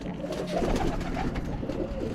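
Birmingham roller pigeon cooing in a loft, a low, soft burbling coo repeated close by over a steady background hum, with no talking.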